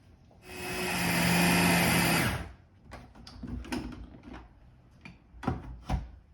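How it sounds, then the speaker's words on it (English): A food processor chops chickpeas for falafel in one loud close burst of high whirring motor noise lasting about two seconds, followed by scraping, knocks and handling clatter. "I'm just going to run them through the machine again"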